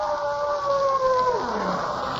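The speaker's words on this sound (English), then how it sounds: "Wolves? Yes, but they won't attack you unless they're hungry." Wolves howl on a lonely mountain road at night as a comedy-sketch sound effect, long rising and falling tones held alone for a couple of seconds, fairly loud and close.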